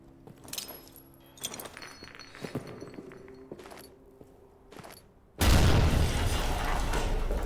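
In the video game Amnesia: The Bunker, scattered clinks and knocks are cut off by a sudden loud, sustained roaring blast that fills the last two seconds.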